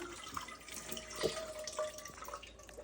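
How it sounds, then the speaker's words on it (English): Water dripping and trickling down from an earthship water filter during cleaning, a steady wet patter with irregular drops and splashes, close by with no talking. "prepare for more water to come down"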